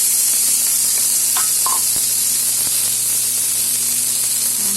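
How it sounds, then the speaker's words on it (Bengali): Diced potatoes frying in a pan for Bengali aloo chorchori give a loud, steady sizzle and hiss with a few faint stirring scrapes, close and continuous. "এখন এগুলোকে আমি ভেজে নেব"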